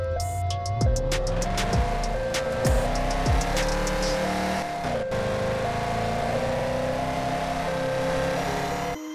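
A car driven in the Police Simulator 2022 mobile game, with steady engine drone and rising, falling rev tones as it shifts and accelerates, loud and close throughout with brief chimes early on.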